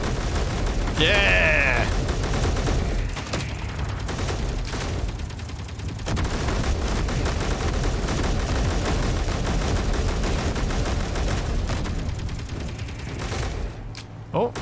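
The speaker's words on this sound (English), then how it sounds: "Hearing everyone else shoot beside me." Rapid gunfire from several players shooting side by side in the Space Engineers multiplayer game, a dense, continuous barrage of shots with a voice briefly cheering over it.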